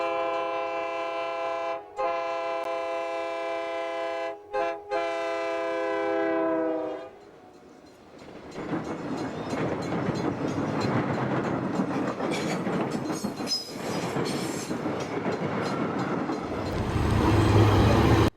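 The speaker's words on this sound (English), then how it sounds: "These units came with multiple different horns, however the most common one was the K3L." Air horn of a GO Transit GP40TC locomotive, a K3L, sounds in several long chords with brief gaps, then gives way to the loud rumble and clatter of the passing train.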